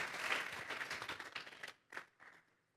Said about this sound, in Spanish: Vamos a darle una ofrenda de palmas a Dios.